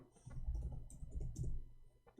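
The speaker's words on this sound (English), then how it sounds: "Hold on, I'm typing in Arabic." Computer keyboard being typed on in Arabic, faint irregular clicks and taps in short bursts, quiet and close, with no talking.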